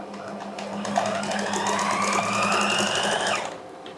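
A sewing machine stitches lace onto fabric with a steady, close mechanical whir. It runs continuously for about three and a half seconds, then stops, with no talking.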